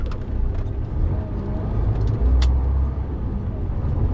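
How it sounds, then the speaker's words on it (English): A MAN truck drives along a countryside road in Wales, its engine giving a steady low drone and road rumble from inside the cab, with a few faint clicks and rattles. "Come on, truck, pick up your speed, power, let's get going."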